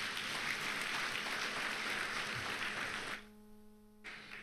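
Audience applause at a conference session on pension fund reforms, a steady wash of clapping that cuts off after about three seconds, leaving a low hum and a faint trailing patter.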